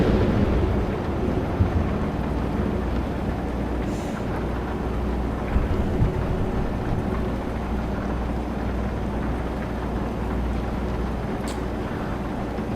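Thunder rumbling through steady rain in the Euro Truck Simulator 2 driving game, a continuous low roar with broad rain hiss, no distinct crack, sustained at even loudness throughout.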